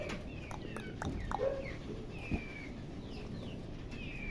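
Pigeons at a fancy pigeon farm, with soft scattered coos and chirps over a low, busy ambient murmur, a few faint bird calls rising briefly above the background.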